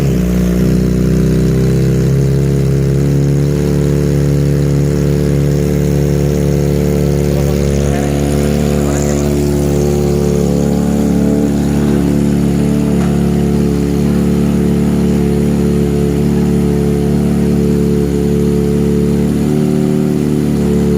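Kawasaki ZX25RR 2023 motorcycle fitted with a Putra Jaya racing exhaust, a loud close-up idle with a steady deep rumble and dense harmonic drone that holds evenly, with slight revving, for about twenty seconds.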